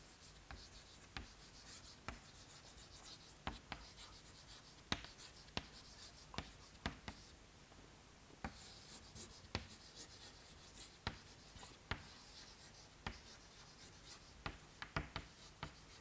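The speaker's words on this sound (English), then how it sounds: "let me write the turbulent kinetic energy equation here" A lecturer writes out the turbulent kinetic energy equation by hand, making steady scratchy strokes with sharp taps throughout, close and quiet, with no talking.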